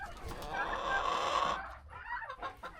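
A nervous tom and several hens cluck in quick, irregular bursts, fairly faint and close together, with a short pause before the clucking resumes.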